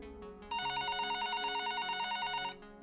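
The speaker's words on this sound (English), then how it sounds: "the phone rang." A telephone bell rings alone in a quiet room, a steady trilling burst of about two seconds made of rapid repeated strikes, loud and close.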